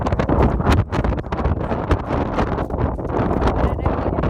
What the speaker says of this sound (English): it's also really windy